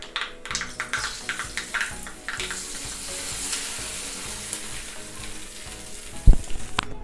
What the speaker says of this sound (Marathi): तर चला आपल्या दाल खिचडीवर ओतून घेऊयात।